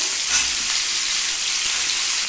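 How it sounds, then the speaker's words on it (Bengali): Cauliflower and carrot pieces frying in hot oil, a loud, close, continuous hissing sizzle with fine crackle that holds steady throughout, no voices. "এসে ফুলকপি দিয়েছি একটু গাজর দিয়েছি এটাকে তেলের মধ্যে একটু ভেজে নিলাম"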